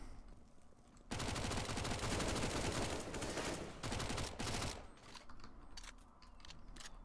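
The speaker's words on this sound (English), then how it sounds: "See, I love this fucking MAC-10" Sustained rapid bursts of MAC-10 submachine gun fire in the video game CS:GO on the Inferno map, loud and continuous for several seconds, then fading into scattered shots and quieter background game sounds.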